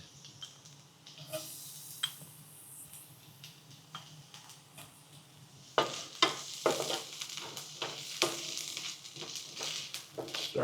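Garlic frying in a pan gives a steady close sizzle with crackles and light scraping or stirring taps, growing louder and busier halfway through.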